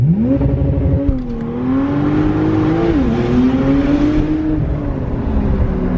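A Porsche accelerates hard, its engine note loud and close, rising steadily in pitch with a brief dip around a gear change before climbing again.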